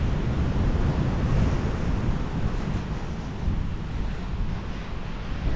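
Steady surf washing onto a calm, secluded beach near a wooded trail, a continuous broadband roar with wind noise buffeting the microphone, loud and unbroken with no voices.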